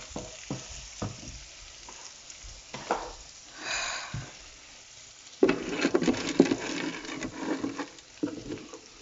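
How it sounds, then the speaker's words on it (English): Onions frying in a pan for omena, a soft sizzle with stirring scrapes and taps, gentler at first and then louder and busier in the second half. "let your onions cook until they're nice and golden"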